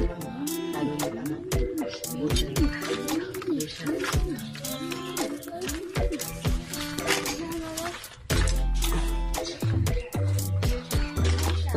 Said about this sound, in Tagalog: Tingnan niyo yung mga ibon natin.